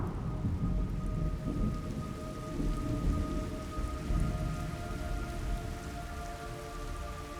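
Steady heavy rain in Metal Gear Solid Delta: Snake Eater, with a deep rolling rumble of thunder underneath, continuous and fairly loud throughout, with a faint sustained tone in the background.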